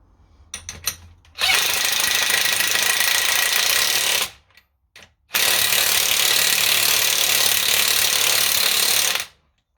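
An impact gun tightens a 19mm bolt on the front suspension of a Ford Mondeo Mk3 ST220 in two loud, close, rattling bursts of a few seconds each, with a short pause between.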